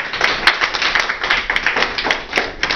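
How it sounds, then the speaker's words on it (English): A small class audience giving a round of applause after a student performance, a thin group of hands clapping close by in uneven rapid claps, distinct individual slaps rather than a dense roar. "would you give them a round of applause, please?"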